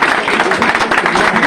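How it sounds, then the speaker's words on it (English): Crowd applause at a Blood Bowl tournament award ceremony: steady, dense clapping from a room full of people, loud and sustained for the whole moment, with some voices mixed in. "So just a round of applause for all those guys."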